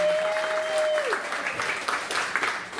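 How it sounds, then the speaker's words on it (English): Audience clapping at a community coffee house event in a room later used for Sunday service, steady moderate applause from a small crowd, with a brief sustained tone at the start and voices mixed in. "I want you to clap for yourselves because you came, you supported the local"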